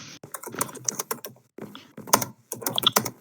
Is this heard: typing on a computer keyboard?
yes